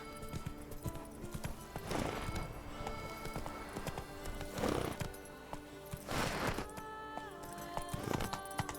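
Roach, the horse in The Witcher 3, gallops with steady clip-clop hoofbeats and several loud whinnies and snorts, set against a game music bed.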